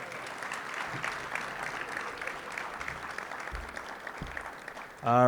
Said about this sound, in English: Let's give a round of applause for all the inductees today.